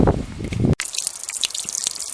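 Permanent water runs high in the Turkish mountains along the St Paul Trail, heard as a steady, close rush and splash after a brief louder, rumbling opening.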